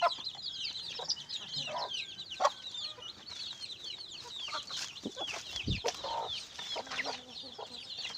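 Native chickens and chicks cluck and cheep in a farm yard, with a busy chorus of high peeping chicks over occasional lower hen clucks, fairly close and continuous.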